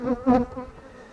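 Honey bees buzz close around a hive full of frames, a brief droning hum that swells for a moment and then eases, with no talking.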